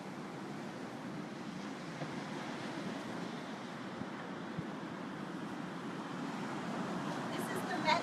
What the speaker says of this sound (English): This is the Mediterranean Sea.